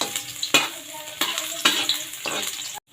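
Ginger fries in hot cooking oil with a soft, continuous sizzle, broken by rhythmic scraping strokes of a utensil stirring the pan about every half second, close by and fairly quiet.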